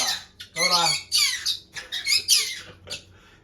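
A green-cheeked conure gives a rapid series of shrill, squawking calls at close range, bursting in short choppy bouts that rise and fall in loudness before trailing off.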